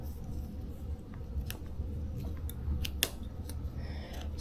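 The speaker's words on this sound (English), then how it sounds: "We're going to see right where our line is where we want to cut." Scissors snipping vinyl wrap for the window sill trim of an Infiniti Q50, a scattering of quiet short cuts and clicks over a steady low background hum, with no talking.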